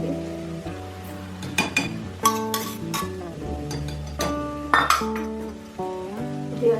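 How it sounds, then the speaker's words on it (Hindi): Spices for egg bhurji are stirred in a pan with a metal spoon, bringing repeated clinks and scrapes against the pan over a soft sizzle and some musical tones. "पहले हमें मसाले को भूनना है।"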